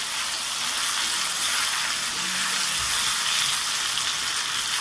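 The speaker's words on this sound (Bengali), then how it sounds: "হলুদ আর লবণটা দিয়ে আমি আলুটাকে ভেজে নেব।" Potato pieces fry in a pan with turmeric and salt, giving a steady, even sizzle that holds at moderate loudness throughout with no voices over it.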